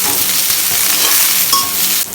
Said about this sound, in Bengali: গরম হলে আমি এখানে দিচ্ছি একটা বড় পেঁয়াজ কুচি, দিচ্ছি 3-4টা কাঁচামরিচ ফালি।